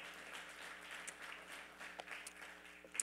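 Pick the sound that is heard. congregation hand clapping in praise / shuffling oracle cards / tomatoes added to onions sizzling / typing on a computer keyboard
congregation hand clapping in praise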